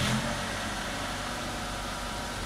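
A 2005 Proton Waja 1.6i MMC engine runs at a steady idle after an engine flush, a close, constant rumble with no speech.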